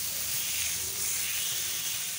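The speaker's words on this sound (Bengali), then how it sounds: "তাই কই মাছগুলো ভাজতে" Koi fish frying in hot oil in a home kitchen, a steady, close hiss of sizzling oil without speech.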